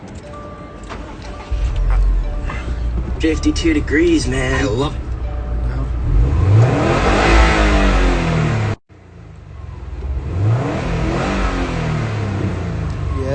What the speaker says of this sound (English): I mean, shit, man, we can rev it.